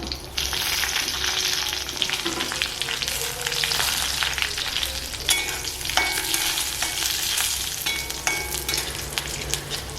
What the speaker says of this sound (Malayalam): ഇനി നമുക്ക് ഉണക്കമുളക് ഇട്ട് കൊടുക്കാം.